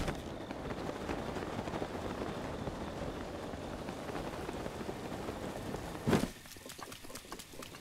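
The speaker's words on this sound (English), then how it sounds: "Oh, it's raining again." Steady rain falling in The Legend of Zelda: Breath of the Wild, a constant close patter with faint footsteps, broken near the end by one sharp louder hit before the rain quiets.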